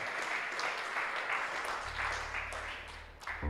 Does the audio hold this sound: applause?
yes